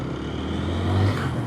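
A TVS Apache RTR 160 4V motorcycle engine hums steadily, its pitch swelling as it accelerates in a short, continuous ride-by with no voices.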